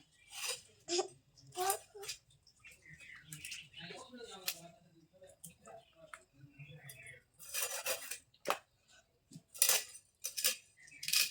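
A fresh river katla fish being cut with a knife in a village kitchen: sharp, intermittent scraping and chopping strokes, some loud and close, with a person talking in between.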